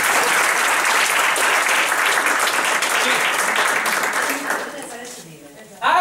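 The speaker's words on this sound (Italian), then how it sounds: "Fatemi un applauso." Loud audience applause fills a talk on parents and children, dense and sustained before thinning and fading near the end, where a voice cuts in.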